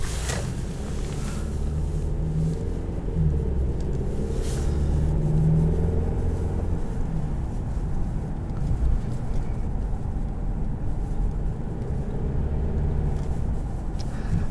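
2018 Infiniti Q50 2.0T turbocharged engine while driving, a steady low rumble with road noise from inside the cabin and a couple of brief clicks, no voices.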